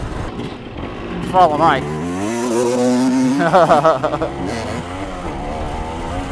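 Two-stroke 1978 Yamaha DT motorcycle and 1987 Honda TRX 250R ATV ridden on a woodland trail, engines buzzing and revving up and down in close, rising whines, with someone talking briefly over them.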